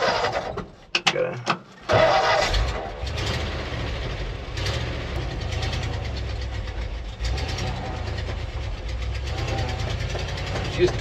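An old truck's engine labours low and steady in low gear and keeps a heavy rumble throughout. Speech is heard near the start, along with a few clunks and short gaps before the engine note settles.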